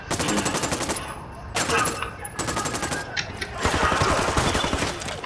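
Rapid bursts of automatic gunfire in Ghost Recon Wildlands, loud and close, coming in several fusillades with brief gaps between them.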